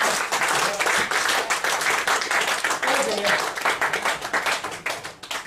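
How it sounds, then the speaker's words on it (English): An audience at a comedy mentalism show applauds in a dense, steady wash of many hands close by, thinning slightly at the very end. "Give her a round of applause as she goes back to the audience."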